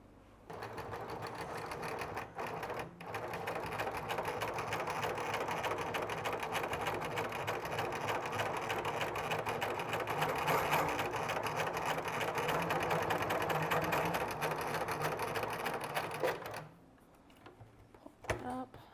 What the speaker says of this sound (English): Now off to the sewing machine.